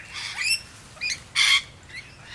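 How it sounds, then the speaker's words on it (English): Noisy miner birds at a bird sanctuary give a series of harsh, moderately loud calls: several chirping phrases and one longer rasping squawk in the middle, with no talking. "Noisy because they have a loud alarm call."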